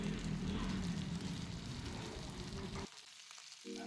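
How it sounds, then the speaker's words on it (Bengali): Potatoes sizzle and fry steadily in hot oil in a pan, seasoned with salt and turmeric, a close crackling hiss that cuts out abruptly near the end before resuming briefly. "এবারে আমি এই আলুটাকে নুন আর হলুদ দিয়ে খুব ভালো করে লাল লাল করে ভেজে নেব"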